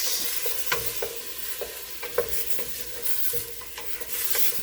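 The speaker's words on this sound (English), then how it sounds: "We're gonna saute this for a little bit." Vegetables sizzle in a hot pan with scattered clicks and scrapes of stirring, a steady close frying hiss with no talking.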